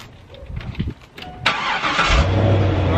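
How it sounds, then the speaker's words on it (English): A Chevrolet Corvette C5 cranks and fires up, the starter's whirr giving way to a loud, steady engine catching and settling into a close, rumbling idle. "I started the car and I put the AC system on full blast"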